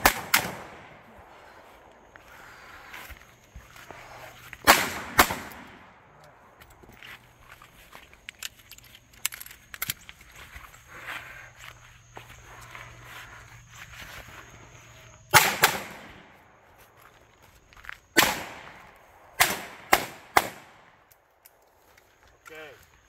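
Sharp, loud shots from a 686 gun striking steel targets, arriving in irregular bursts several seconds apart, with quieter movement and shuffling sounds between them.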